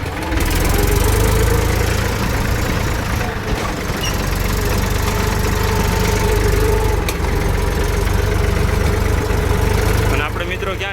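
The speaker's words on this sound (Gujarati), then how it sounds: "જો મિત્રો આપણું ટ્રેક્ટર હાલતું હવે" A farm tractor engine runs steadily close by, a low, continuous rumble with a knocking idle character that holds throughout, with faint voices now and then.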